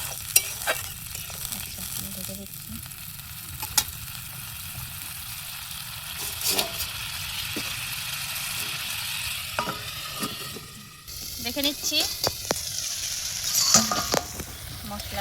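Spice masala frying in a pot while being stirred and cooked down outdoors, a loud steady sizzle with scattered utensil scrapes and clinks, swelling into a busier, hissier stretch toward the end.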